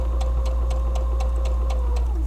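A sewing machine fitted with an edge stitch foot sews a straight line, a steady close mechanical whir with an even, rapid ticking rhythm of about four beats per second.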